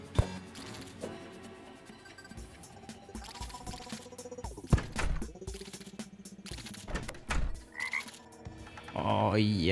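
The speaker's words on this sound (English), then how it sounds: "I ribbit when I take damage now." Frog croaks and ribbits sound over busy video game effects in Terraria, where taking damage with the froggy neckband makes a character ribbit. Several short, clipped croaks come up between the bursts of game noise.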